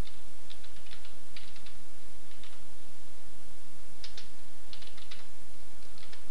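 Keyboard typing on a computer while writing Java code, quick irregular clusters of key clicks separated by short pauses, close and clear over a steady low hum with no talking.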